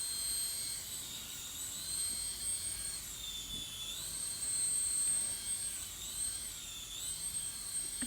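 A small Golden Snitch helicopter toy in flight, its propeller giving a steady high-pitched whine that rises and dips slightly as it hovers, close and continuous with no talk.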